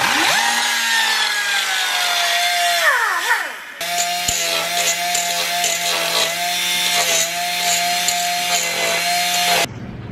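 A rotary cutting tool grinds through the metal of a Ford Foxbody Mustang in a shop, a loud sustained whine with shifting pitch that spins up, dips briefly, then runs steadily before cutting off.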